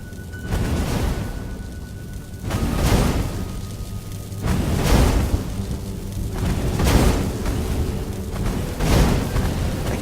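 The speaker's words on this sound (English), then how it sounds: "A cannon trap." A cannon trap in a fantasy action video game fires repeatedly, giving about five loud booming blasts roughly every two seconds, each with a rumbling tail over steady game ambience.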